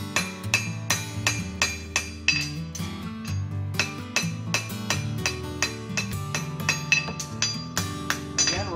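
Rapid metallic hammer blows ring out steadily, a close, bright clanging rhythm of strikes on a steel horseshoe with faint ringing between hits.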